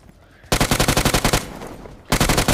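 Rapid automatic gunfire in a PUBG Mobile gun fight, a loud sustained burst of evenly spaced shots that pauses briefly, then resumes with another close, heavy volley.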